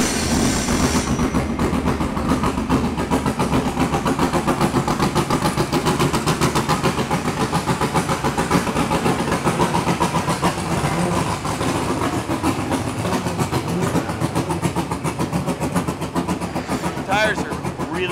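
A race car engine runs steadily and loudly throughout, a dense continuous drone with a rough mechanical rattle, while people talk over it at a racing event.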